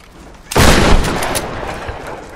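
A single gunshot in the video game Tomb Raider (2013), a sharp loud blast with a booming tail that rings out and fades over about two seconds.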